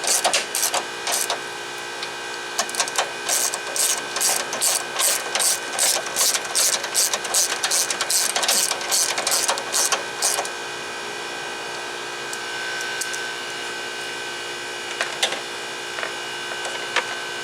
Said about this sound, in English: Now we just bolt it right back down.